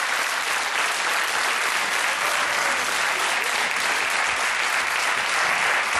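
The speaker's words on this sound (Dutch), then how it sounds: "Geef me gewoon de applaus." Studio audience applause, a loud, dense, unbroken wall of many hands clapping that holds steady from start to finish.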